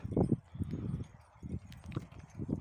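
Irregular clopping of working mares' hooves on soft garden ground nearby in Ukraine, in uneven bursts with faint rustling between steps.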